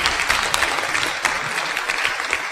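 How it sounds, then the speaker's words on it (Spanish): Loud, steady audience applause for a guest researcher on a Mexican television program about a UFO case, dense clapping that fills the whole stretch with no voices over it. "Fernando J. Telles, para quien pido un fuerte aplauso."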